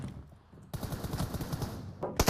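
Rapid video-game gunfire bursts out after a quiet start, a fast run of shots for over a second, followed by a couple of louder sharp shots near the end.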